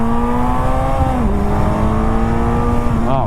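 A 2001 Suzuki Hayabusa GSX1300R motorcycle accelerating on a ride, a loud, close engine howl that holds steady, dips briefly as the pitch drops, then surges again at the end.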